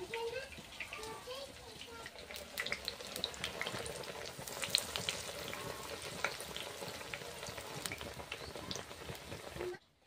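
Eggplant fritters (beguni chop) frying in hot oil, a continuous close crackling sizzle with small pops throughout that cuts off abruptly at the end.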